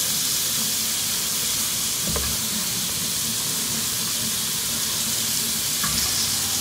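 Onion, capsicum and green chillies frying with chicken in a pan, a constant even sizzle with a couple of faint clinks, no talking.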